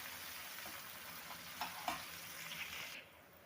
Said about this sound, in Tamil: இப்போ உப்பு சேர்த்து நல்லா வதக்கி விட்டுக்கலாம் ஒரு 5 நிமிஷம்.